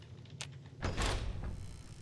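A cabinet swinging open in the video game Fallout: New Vegas, heard as a short click followed by a fuller wooden creak and thump, close and fairly loud against a quiet game ambience.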